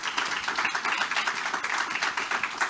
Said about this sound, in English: the people in this room and the people on this panel deserve a round of applause